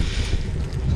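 Strong headwind buffets the microphone of a moving bicycle, a steady low roar of wind noise with no talk.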